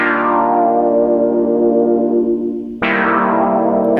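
Synth patch on a Synthstrom Deluge with reverb and delay effects, a sustained, bright, harmonically rich tone slowly fading over almost three seconds, then a fresh note struck and held.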